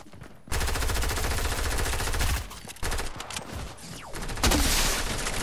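Rapid automatic gunfire in Fortnite, loud and close, coming in long sustained bursts that break off briefly and start again, with another burst landing near the end.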